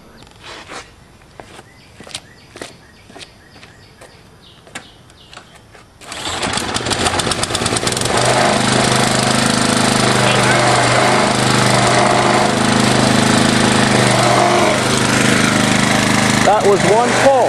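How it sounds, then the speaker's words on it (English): A Kawasaki commercial lawn mower engine, set on choke after new piston rings, is started with one pull after several light clicks and handling noises, then roars into a loud, steady close-up run with some vibration. "I'm not sure if this lawnmower has any safety controls to start it, so I've just got it on choke and gonna see what happens."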